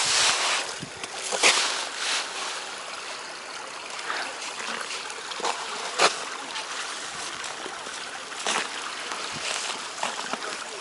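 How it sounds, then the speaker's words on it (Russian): A flowing stream of water at a winter resort with icy paths, a steady soft trickling and gurgling with scattered splashy bursts, heard fairly close and alone throughout. "Прям ручей."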